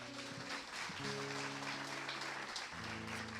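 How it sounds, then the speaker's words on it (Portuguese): A church congregation applauds after a testimony, a steady wash of clapping with sustained organ or keyboard tones and occasional voices mixed in. "Vamos aplaudir o Senhor, irmãos."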